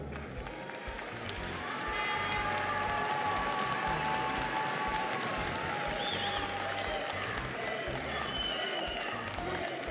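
An audience applauds at the TNLA 2020 awards ceremony, with dense, steady clapping and crowd noise that swells after the first two seconds and holds loud to the end, with some voices mixed in.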